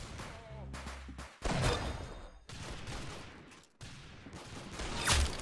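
Gunfire in the video game Arsenal, with rapid, loud bursts of shots and sharp cracks packed together across the clip.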